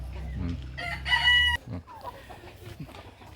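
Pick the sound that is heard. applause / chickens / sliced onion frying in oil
chickens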